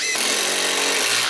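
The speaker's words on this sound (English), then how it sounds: "He's actually trying to drill through it." A cordless impact driver, in a test comparing the Milwaukee 2853-20 and Makita XDT16, grinds a bit into material with a loud, continuous, close-up whirring rattle that barely varies and has no speech over it.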